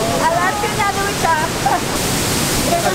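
Pailón del Diablo waterfall in Ecuador thunders as a loud, steady broadband roar close by, with wind buffeting and voices faintly audible over it.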